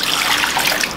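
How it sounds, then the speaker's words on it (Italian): Tap water runs steadily into an old mixing bowl for Roman-style pinsa dough, a continuous close trickle and splash with no talk over it. "via con l'acqua"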